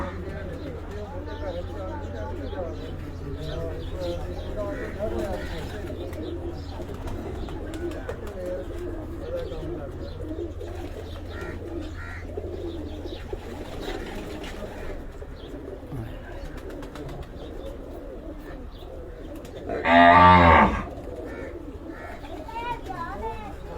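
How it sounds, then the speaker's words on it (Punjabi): Flying pigeons kept at a loft in Head Marala, Punjab coo steadily over a constant low hum and background murmur, with a brief loud burst near the end. "ਉਹਨਾਂ ਦੇ ਕਬੂਤਰਾਂ ਤੁਹਾਨੂੰ ਸ਼ੋਅ ਕਰਾ ਰਹੇ ਹਾਂ ਜੀ"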